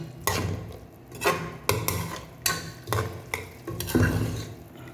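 A spoon works a spice paste into Chettinad beef gravy in a pan, making rhythmic, fairly close scraping stirs roughly every second over a soft simmer, with no voices.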